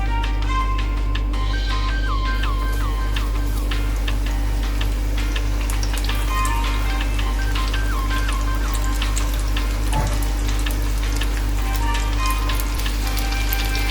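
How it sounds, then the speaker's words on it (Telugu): Battered chili pepper rings fry in hot oil with a loud, steady sizzle and scattered crackling pops throughout, close up and alone. "నూనె వేడెక్కిన తర్వాత ఈ మిర్చి రింగ్స్ని నూనెలో వేసేసుకొని ఫ్రై చేసుకోవాలి."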